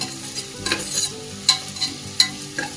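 Sliced onions sautéing in a pan for vegetable biryani, a soft steady sizzle broken by several scraping stirs of a spoon against the pan, with no talking.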